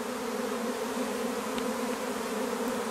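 A swarming honeybee colony that has just split from its hive fills the air with a dense, steady buzz, continuous and moderately loud with no voices.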